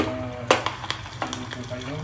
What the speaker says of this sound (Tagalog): So itutuloy-tuloy ko lang po yung pagpipirito.